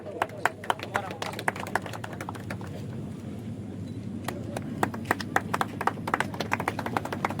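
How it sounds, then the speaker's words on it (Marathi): Loud applause from a crowd at a bullock cart race, honouring the bull owners: a dense patter of clapping that swells near the start and rises again toward the end, with an announcer speaking over it. "जोरदार टाळ्या मित्रांनो"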